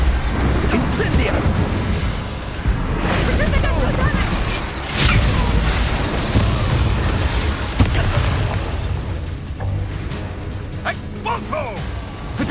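An Incendio fire spell blasts in Hogwarts Legacy amid loud, dense combat with rumbling booms, whooshing bursts and layered game effects throughout, with voices shouting over the din.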